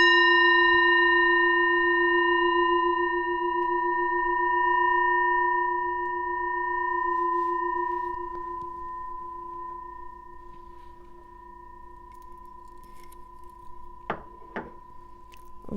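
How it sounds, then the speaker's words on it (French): A Tibetan singing bowl struck like a gong rings with a long, pure sustained tone and harmonic overtones that slowly fade, followed by a few soft knocks near the end. "on va purifier les énergies avec mon bol tibétain de chez toi et de chez moi, juste avec un gong"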